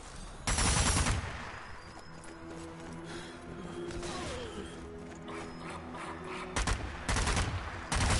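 Gunfire in the co-op zombie shooter Zombie Army 4 on its hardest difficulty, with loud rifle shots near the start and end and mechanical reloading clatter between them.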